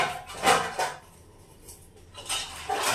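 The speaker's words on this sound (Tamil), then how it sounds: "அதனால உங்களுக்கு பாத்திரம் சவுண்ட் கேட்கும்." Dishes and pots being washed in a home kitchen, with several sharp clinks and clatters in two bursts separated by a quieter gap, close by and moderately loud.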